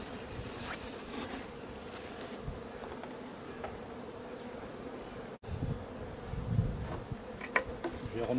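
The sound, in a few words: honey bees buzzing around a hive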